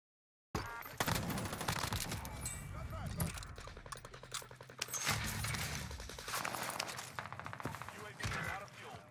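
Call of Duty Warzone video game gunfire: rapid automatic bursts crack out in quick repeated volleys, loud and close, with a voice talking over the shooting at times.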